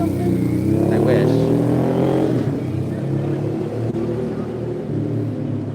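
A car drives past on a San Francisco street outside a store at night, a moderately loud engine rumble that swells and fades within a few seconds, with a person talking nearby.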